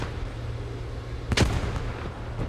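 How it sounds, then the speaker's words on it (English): Grenades fired in a volley by a four-man squad in the Post Scriptum war game, heard as one sharp, loud blast with a short rumbling tail over a low steady background hum. "Volley of grenades going out from this 4-man 363 squad"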